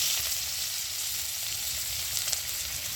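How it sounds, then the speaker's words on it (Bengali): Chopped onion sizzles in hot oil in a pan, a dense, even crackling hiss heard up close and alone for a few seconds. "ওই তেলের মধ্যে দিয়ে দিচ্ছি পেঁয়াজ কুচি"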